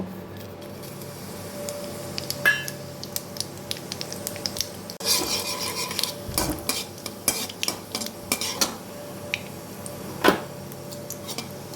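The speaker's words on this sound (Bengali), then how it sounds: "এবার এই তেলে কালো জিরে আর শুকনো লঙ্কা দিয়ে দেব।" Nigella seeds and dried red chillies sizzling in hot oil in a kadai, a low steady frying hiss broken by sharp clicks and spoon scrapes against the pan, close by with no voices.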